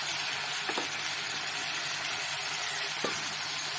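Spice masala fries in a pan with cashew-poppy seed paste and melon seed paste for a paneer dish, giving a steady close sizzle with a couple of faint stirring scrapes, and no voices.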